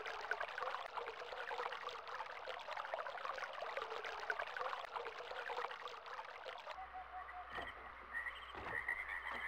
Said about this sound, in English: So that seems to open or close the flow of water from this, what looks kind of like a water storage tank.